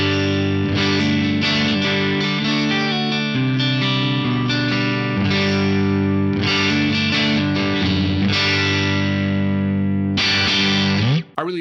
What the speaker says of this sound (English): I'm playing a 1977 Fender Strat straight into the Axe FX 3